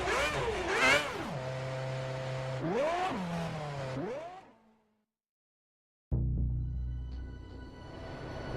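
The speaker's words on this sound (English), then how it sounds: "Let's fire up the engine." A Formula 1 car in a racing video game on the grid for the Malaysian Grand Prix fires up and revs in loud, rising and falling sweeps, cuts to silence, then settles into a low steady idle.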